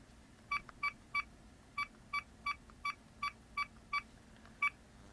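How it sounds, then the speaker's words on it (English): Telephone keypad tones sound as a number is dialed to call a phone linked to a Creative Sound Blaster Roar speaker, with about a dozen short clear beeps in an uneven rhythm over a quiet hum. "I hear dialing, my phone's ringing"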